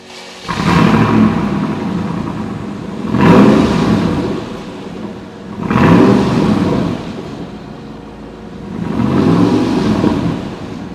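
A 2011 Mercedes G55 V8 being revved in four separate bursts, each swelling to a loud roar and falling back to a steady idle rumble, recorded up close with no talking.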